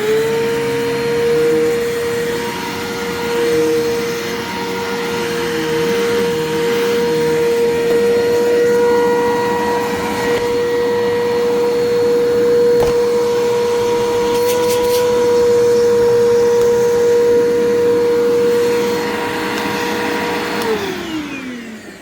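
An old UK vacuum cleaner motor whines loudly and steadily with a rough, wavering hum, then winds down near the end, its pitch dropping as it slows.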